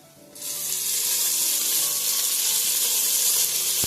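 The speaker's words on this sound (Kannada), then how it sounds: "ಇದನ್ನು ಒಂದು ನಿಮಿಷ ಫ್ರೈ ಮಾಡ್ಕೊತೀನಿ ನೋಡಿ ಈ ರೀತಿ ಚೆನ್ನಾಗಿ ಫ್ರೈ ಮಾಡ್ಕೋಬೇಕು" Chopped tomato frying with browned onions for green masala chicken chops, a sudden sizzle that bursts up loud and holds as a steady hiss, with no talking.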